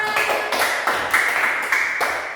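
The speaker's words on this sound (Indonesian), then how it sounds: "Oke, tepuk tangan buat semuanya." Schoolchildren clap together in a loose rhythm, with about five distinct group bursts, sharp and near, that stand out over a softer background patter.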